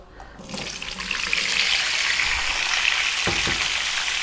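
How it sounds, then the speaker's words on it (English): White sweet potato pieces frying in an oil-filled pan for a vegan potato curry, giving a steady, dense sizzle that swells in over the first half second and holds loud and close, with a couple of faint stirring knocks near the end. "And we're going to fry this around for just about 4 to 5 minutes."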